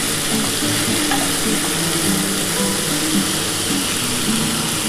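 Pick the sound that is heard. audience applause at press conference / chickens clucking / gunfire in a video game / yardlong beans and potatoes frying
yardlong beans and potatoes frying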